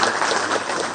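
A crowd at a government workshop event attended by the Chief Minister claps in a brief, dense burst of applause, heard on its own.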